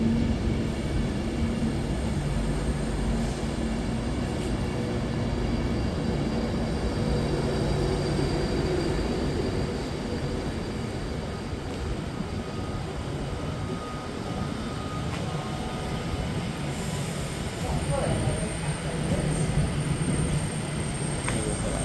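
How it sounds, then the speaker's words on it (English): A departing Avanti West Coast passenger train, a Class 390 bound for London Euston at Nuneaton station, makes a steady low rumble that rolls on continuously at moderate loudness with faint higher whines. "that's departing now. It's a 15:43. Avanti West Coast service to London Euston"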